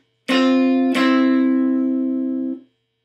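Two plucked electric guitar notes, played once with the middle finger on and once with it off, ring out close and clear, the second sustaining for over a second before being cut off.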